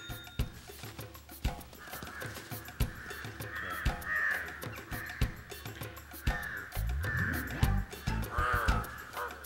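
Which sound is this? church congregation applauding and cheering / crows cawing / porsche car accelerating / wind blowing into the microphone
crows cawing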